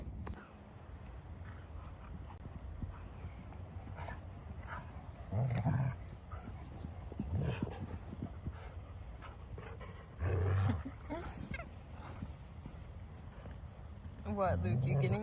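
Hunting dogs playing around, with scattered barks, whimpers and panting over several seconds, a few louder bursts standing out, mixed with people talking nearby.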